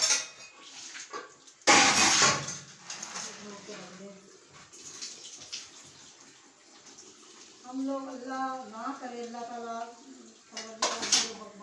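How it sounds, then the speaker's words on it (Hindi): Dishes, pots and utensils being washed by hand: clinks, scrapes and splashing water come in bursts close by, with a loud clatter early on. Someone talks throughout. "जब हम ये करते हैं ना, ये धोते हैं बर्तन"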